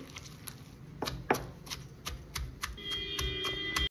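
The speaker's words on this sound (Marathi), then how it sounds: "हे आता ह्या खलबत्त्यामध्ये मी बारीक करून घेते" Kharda, a coarse chili-garlic paste, pounded in a mortar and pestle: repeated sharp knocks in an irregular rhythm, close and fairly loud, with a faint higher ringing tone near the end.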